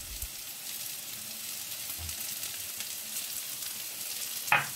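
Octopus sautéing in a pan for a Provençal fricassée, with garlic and spring onion to follow, gives a steady, moderately loud sizzle throughout, a couple of soft knocks early on and a sharper scrape or clatter near the end.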